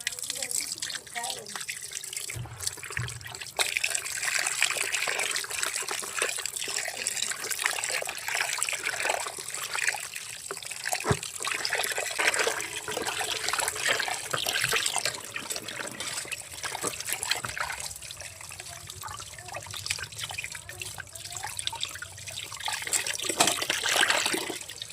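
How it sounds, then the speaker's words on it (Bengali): Water from a tap trickles and splashes as freshly cut rohu fish pieces are rinsed in a village home kitchen, a steady close running sound with occasional clatter. "সবগুলো মাছ কাটা হয়ে গেছে, এখন ধুয়ে নেব।"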